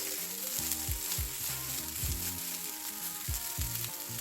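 Rice toasting in a hot pan gives a steady, even sizzle with a dense crackle throughout, close up and moderately loud, with no voices.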